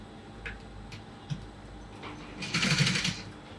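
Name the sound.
sewing machine stitching the facing of a cap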